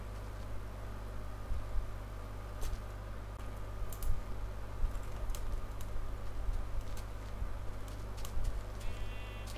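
Sheep bleat in the Minecraft video game, faint and intermittent beneath steady keyboard typing clicks and a constant low hum.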